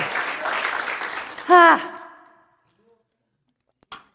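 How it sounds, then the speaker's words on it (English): An audience applauds at a musical performance, a dense wash of clapping that rises with a brief vocal whoop, then dies away into silence with a few faint stray sounds at the end. "Give yourselves a big round of applause"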